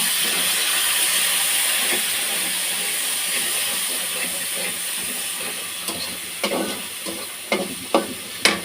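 Chopped onions frying in hot oil, a loud steady hiss and sizzle up close, with sharp spatula knocks and scrapes arriving more often toward the end, and no speech.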